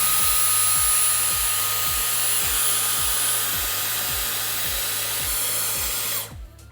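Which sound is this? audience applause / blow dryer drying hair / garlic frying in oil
blow dryer drying hair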